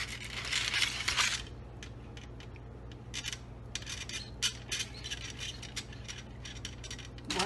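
A knife cuts through hot, smoky spicy hunter beef, giving a run of soft crisp slicing and scraping strokes near and fairly quiet over a steady low hum, with a denser burst of cutting at the start.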